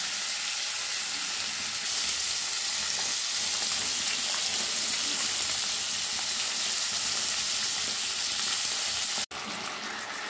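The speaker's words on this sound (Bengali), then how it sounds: "মিডিয়াম আঁচে রেখে আমি মাছগুলো ভেজে নেব।" Pieces of rohu fish fry in hot mustard-style oil in a kadai over medium heat for a Bengali fish curry, a steady dense sizzle that holds evenly throughout, close and loud, with a brief dropout near the end.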